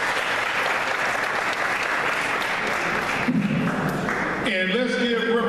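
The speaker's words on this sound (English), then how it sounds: "let's give Reverend Fox a round of applause for organizing this" Steady, dense applause from an audience at a Dayton NAACP monthly community meeting. It fills the room for several seconds, and near the end a voice or some tonal sound rises over the clapping.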